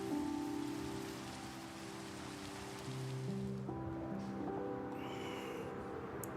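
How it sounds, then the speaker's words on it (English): Soft, continuous patter of rain in a hardcore survival video game, steady and low in level beneath sustained tonal game music notes, with no talking. "Guys, it's raining."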